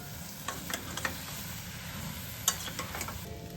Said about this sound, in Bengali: আবার পুরো জিনিসটাকে 2 মিনিট মতো নাড়িয়ে ঢাকনা দিয়ে ঢেকে দিতে হবে